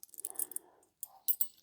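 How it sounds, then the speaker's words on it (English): A couple of old brass keys are handled up close, giving light metallic jingles and clinks in two short bursts with a quiet rustle between them. "We have a couple of brass keys"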